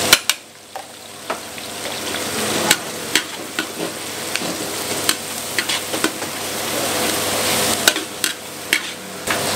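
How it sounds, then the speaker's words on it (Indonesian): Garlic sizzles loudly in a large wok holding a big batch of baby corn and meatball stir-fry, with a constant hiss of hot oil and repeated sharp clanks of a spatula scraping and stirring against the metal. "Jangan nunggu sampai layu, kita masukin bawang putihnya. Bawang putih kita masukin."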